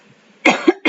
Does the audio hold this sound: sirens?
no